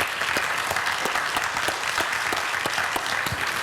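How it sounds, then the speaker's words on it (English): An audience at a residential burglary prevention forum claps steadily in warm, continuous applause after a presentation, with no voices. "Can you please give him a round of applause?"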